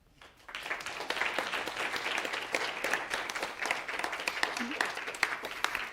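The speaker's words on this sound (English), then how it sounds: "Someone accused me of on YouTube of dubbing in applause at the end of my lecture." An audience applauds at the close of a university lecture, steady dense clapping from a large room that starts abruptly and continues evenly throughout.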